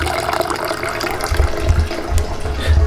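Water runs steadily from a kitchen tap as it is collected for cooking paneer Maggi, a close, continuous gushing flow with no talking.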